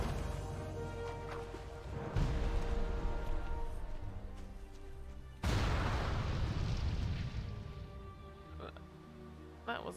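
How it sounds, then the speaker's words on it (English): Video-game explosions: two heavy booming bursts, around two and five seconds in, rise out of a dense, continuous rumble of game noise, each followed by a long, loud roar that slowly fades. "That wasn't all that mighty. And an explosion."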